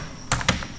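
A computer keyboard typed on at a desk, three or four crisp, close keystrokes spaced unevenly over a low background hum.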